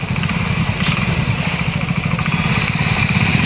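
A motorcycle engine runs close by with a steady, loud, throbbing idle that holds for the whole stretch without revving.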